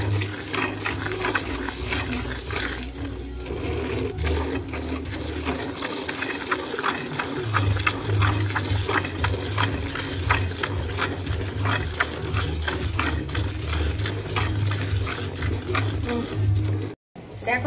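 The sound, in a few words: cow being milked by hand into a bucket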